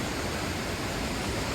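Water rushes steadily into a traditional Nepali water mill (ghatta), a dense, unbroken close-up roar with no pauses and no voices.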